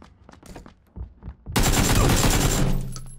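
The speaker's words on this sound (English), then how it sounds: "Oh god, he shotgunned me!" Shotgun fire in PUBG comes in a loud, close burst of overlapping blasts that lasts about a second, then decays into a brief ringing tail after a few quiet clicks and shuffles.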